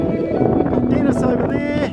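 Strong, steady wind roars around a sailboat running before a following sea off New Zealand's South Island near d'Urville and Stephens Islands, with a voice talking over the gusts.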